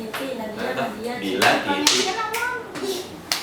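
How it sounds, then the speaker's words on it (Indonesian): A children's rhythmic concentration clapping game, with hand claps alternating with pats on the right and left thighs and finger snaps. Sharp claps and taps ring out in a steady pattern, mixed with children's voices talking. "kita kan tepuk tangan, habis itu tepuk paha kanan, paha kiri, terus jentikan jari"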